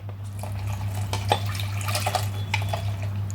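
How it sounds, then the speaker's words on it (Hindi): Water poured close by into a bowl, a short steady splashing stream with small gurgles over a constant low hum. "तो ये 1 कप पानी हमने अच्छे से डाल दी है।"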